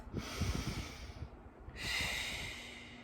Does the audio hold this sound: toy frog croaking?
no